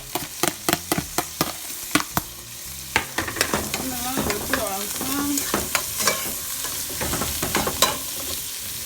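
Onions, garlic, bell pepper and leek sauté in a pan, starting with a run of sharp, evenly spaced utensil taps, then a rising sizzle under scraping, clattering stirring strokes.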